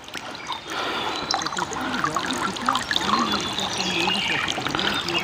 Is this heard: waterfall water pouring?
yes